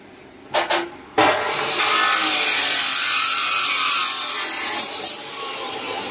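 Power drill boring a 14 mm hole with a stainless steel bit, giving two short bursts and then a sustained loud grinding whine for several seconds that eases off near the end.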